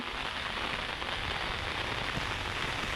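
Heavy rain pours during a storm, a dense, steady hiss of drops hitting surfaces that fills the whole stretch without a break, loud and close, with no voices.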